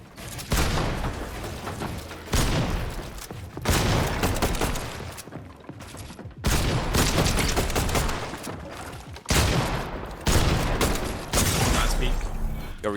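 Rapid assault rifle bursts in a Fortnite fight, loud clusters of automatic fire broken by short pauses, repeating over several seconds of combat.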